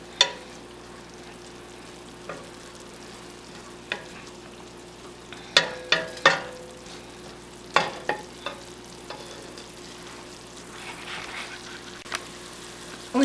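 White wine and herbs reduce in a pan for a marinara sauce, giving a low, steady simmering sizzle punctuated by several sharp clinks and scrapes of stirring, with no one talking.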